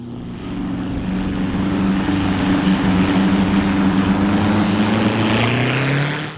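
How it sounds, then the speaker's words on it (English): Supercharged racing boat engine in Miss Daytona running steadily and loud, a dense mechanical thrash with solid-lifter chatter and a supercharger whir over a deep propeller-like drone, holding for the whole stretch before easing at the end. "the engine has a real great mechanical sound, a lot of thrashing, obviously solid lifters and that whir, the supercharger, and just very chunky."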